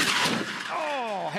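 A Dunlop series V8 Supercar driven by James Golding crashes violently at Turn 3 at Clipsal 2015. A loud burst of crunching impact opens, then gives way to a whining engine tone that sweeps downward.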